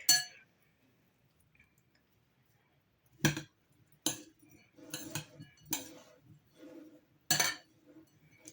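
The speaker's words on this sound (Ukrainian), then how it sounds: "Знаєш, як дзвонить ложка по хрустаній салатниці?" A spoon strikes a crystal salad bowl in a series of bright, ringing clinks, spaced irregularly with short pauses, close and clear against near silence.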